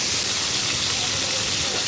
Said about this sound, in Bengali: আমার মাছটা ভাজাটা হয়ে গেছে